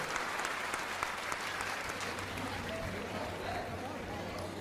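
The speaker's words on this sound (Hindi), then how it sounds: "एक बार सभी लोग महाराज जी के लिए जोरदार ताली बजाएं" A crowd at a spiritual discourse gathering claps loudly for the guru, a sustained, even wash of applause that sounds somewhat distant and soft, with faint talking mixed in.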